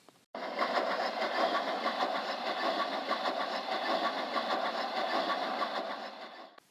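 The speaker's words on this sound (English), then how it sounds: "And so the two engines set off." Two steam engines pull away along a railway line, a steady, loud chuffing and rattling that begins abruptly after a brief pause and runs on evenly before fading slightly at the end.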